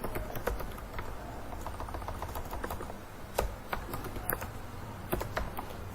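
Someone types steadily on a computer keyboard while writing a blog post, a fast irregular run of close, crisp key clicks with a few sharper taps, with no talking.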